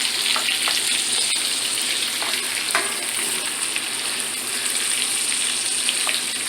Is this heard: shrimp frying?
yes